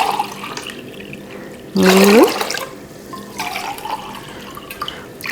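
A short burst of water pouring into a cooking pot, loud and close, with a rising gurgle as the pot fills, then quieter background sounds.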